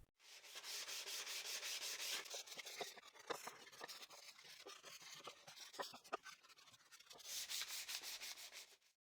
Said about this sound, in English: I'll also do manual sanding, especially on the edges, to prevent them from being too sharp.